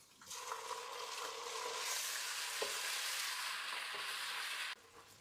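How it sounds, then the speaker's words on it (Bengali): Onions stirred and fried in a pan for mutton rezala, a loud continuous sizzle with scraping stir strokes running steadily for several seconds before cutting off abruptly near the end, no talk. "পেঁয়াজগুলো দিয়ে দিব। দিয়ে ভালো করে নাড়াচাড়া করে ভেজে নেব।"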